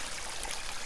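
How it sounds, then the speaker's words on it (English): Trickling mountain stream water runs as a steady, soft wash with no voices over it. "Hopefully this is just some new water coming off the mountain."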